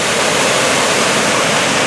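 Waterfall in Umpqua National Forest, a steady broadband roar of falling water, loud and continuous with no breaks or voices.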